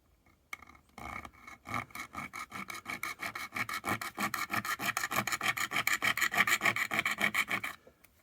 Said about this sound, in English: That goes through that like butter. That is a really nice saw.